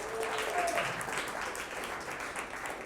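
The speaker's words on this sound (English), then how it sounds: "Everyone, please give them a round of applause." Audience at a talk applauding, a soft continuous patter of clapping from a moderate crowd, fairly distant and steady for a few seconds.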